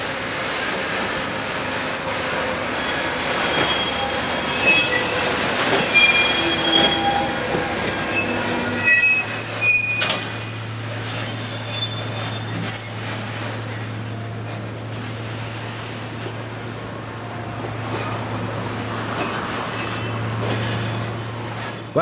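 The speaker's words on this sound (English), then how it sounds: "Wagons are propelled over the hump into any one of 32 classification sidings" Freight wagons are propelled over a hump into classification sidings in a European rail yard, rolling and clanking with sharp high wheel squeals and screeches, then a steady low engine drone takes over.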